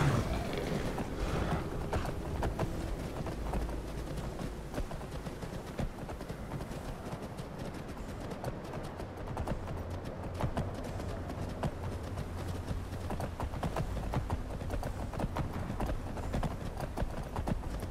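A horse gallops downhill over snowy ledges in Skyrim, its hooves drumming in a fast steady rhythm that stays close and constant throughout.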